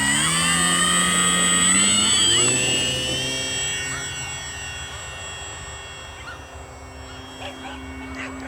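Small electric motor of an E-flite M7 Maule RC plane spins up with a high whining tone that rises and then gradually settles and fades, heard outdoors with no talking over it.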